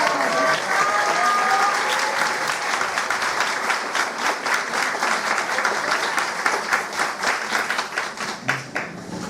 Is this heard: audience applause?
yes